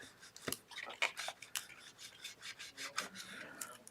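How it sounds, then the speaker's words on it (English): A scraper pressed firmly over paper lantern pieces gives short, sharp rubbing and scratching strokes, irregular and close up, with quiet gaps between them. "I'm going to use my scraper to really push this down"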